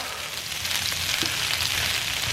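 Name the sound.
food searing in a pan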